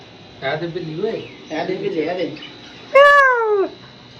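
Two soft mewing calls followed by a louder, drawn-out cat meow, close by, with brief pauses between them.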